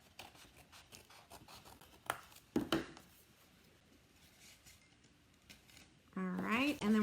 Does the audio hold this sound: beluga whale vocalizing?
no